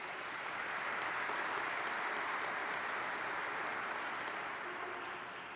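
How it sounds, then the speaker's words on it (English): An audience at a summit gives a round of applause, a dense, even wash of clapping held steady for several seconds, fairly distant and soft, tapering slightly at the end. "Let's give them all a round of applause."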